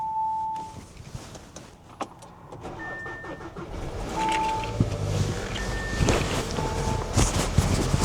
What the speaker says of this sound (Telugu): సో ఫస్ట్ థింగ్ ఈజ్ మనం కార్ని కొంచెం హీట్ చేయాలి.